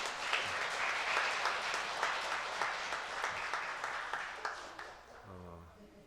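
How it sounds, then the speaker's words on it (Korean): Church congregation applauds to welcome a new education minister, a broad round of clapping that fills the room and fades out near the end as a low voice begins. "잠깐 좀 일어나서 박수로 환영해 주시고요."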